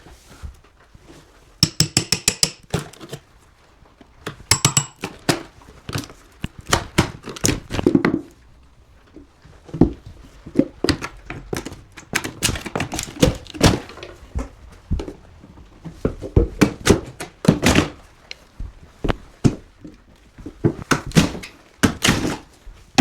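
Repeated sharp knocks and thuds in irregular bursts as a hammer strikes wood while removing a skirting board, with short pauses between clusters of blows.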